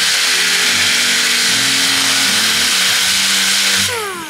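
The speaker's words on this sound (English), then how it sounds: "Then I'm gonna take my DA sander, if you look right here, and it's got 36 grit on it" A dual-action (DA) sander fitted with 36-grit paper grinds on fiberglass gel coat, a loud steady whirring drone that holds constant, then begins winding down at the very end.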